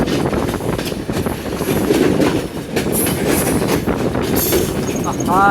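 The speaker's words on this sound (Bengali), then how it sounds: "ট্রেন যাচ্ছে ছুটছে" A Dinajpur–Dhaka passenger train runs through rural Bangladeshi countryside, a steady loud rumble of wheels and carriage noise with brief squeals and a short high tone near the end, while a voice speaks over it.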